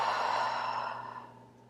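A single long, audible exhale during EFT tapping for shoulder pain, breathed close to the microphone and fading out slowly with no speech.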